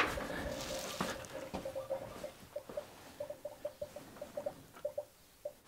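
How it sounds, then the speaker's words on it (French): Coolant gurgles inside the radiator of a Renault Twingo with a leaking cooling system just after the engine is switched off, a string of small, irregular bubbling pops that grow sparser and more separated toward the end, close by and fairly quiet. "Et là ça glougloute."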